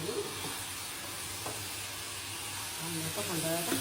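Idli batter being stirred in a bowl, a soft wet swishing and sloshing heard fairly close with a low hiss, while a voice talks over parts of it.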